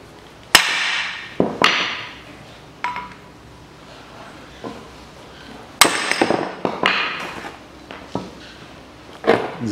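A sledgehammer strikes metal while a front right hub bearing is replaced on a Suzuki Every 0.7, giving sharp, ringing blows spaced irregularly, close and loud in a quiet workshop.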